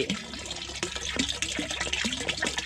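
Liquid sugar solution pours into a large water tank, a continuous gurgling, splashing flow with bubbly glugs, fairly close and steady throughout.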